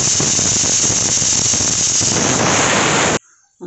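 Pressure cooker whistling loudly while dal khichdi cooks on the stove, a sustained harsh steamy hiss that holds steady for about three seconds and then cuts off abruptly, leaving near silence.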